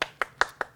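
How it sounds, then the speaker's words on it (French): Five sharp hand claps in a steady rhythm, about one every fifth of a second, close and fairly loud with no talk, at a French game-show house competition. "On applaudit."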